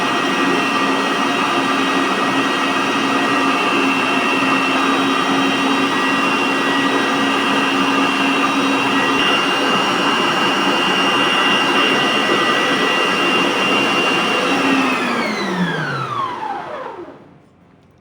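An electric mixer whipping half a cup of cream for homemade ice cream runs with a loud, steady, high whine for a long stretch, then winds down in pitch and stops.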